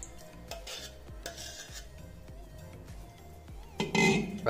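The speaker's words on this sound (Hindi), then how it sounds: "अब आपको इसके अंदर दही को मिक्स करना है तो मैं दही मिक्स कर देता हूँ।" A spoon stirs curd (yogurt) into moong dal pakodas, making repeated wet scraping strokes in a steady rhythm, close by, with a louder burst of stirring at the end.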